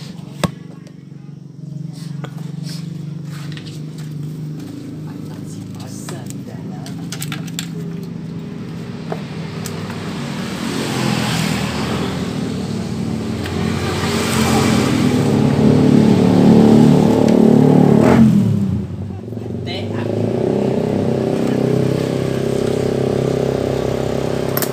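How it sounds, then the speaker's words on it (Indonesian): A Yamaha Vixion motorcycle engine runs steadily during a test after a charging-coil repair, a continuous mechanical drone that swells louder in the middle and then settles, with background voices around it. "lalu kita akan tes motor ini sesuai dengan janji saya."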